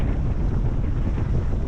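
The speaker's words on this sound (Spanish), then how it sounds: "Hay mucho viento hoy." Strong sea wind along the waterfront in Campeche, a steady loud buffeting roar dominated by low rumble, with wash that may be waves, continuous and close throughout without voices.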